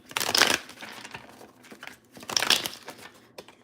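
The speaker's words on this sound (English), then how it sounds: "So I'm going to shuffle these cards" Tarot cards are shuffled up close in two brisk bursts of riffling and crinkling, separated by softer handling sounds, with no talking.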